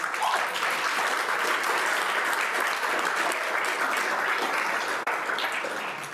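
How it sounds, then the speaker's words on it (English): Loud, dense applause from a large crowd, steady throughout and fading only slightly near the end. "So I can tell the applause is happening there."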